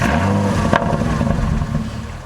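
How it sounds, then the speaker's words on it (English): A passing car's engine revving loudly nearby, a sustained mid-pitched roar with a sharp clatter partway through, heard alone without talking. "somebody comes by revving their engine and just completely interrupting the mood and the moment"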